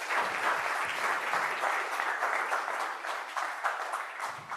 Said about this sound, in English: Can I get another round of applause for Dr. Hall?